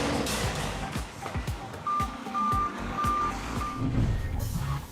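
Garbage truck reversing, its backup alarm sounding a few steady beeps over engine rumble and clanking thumps, moderately distant.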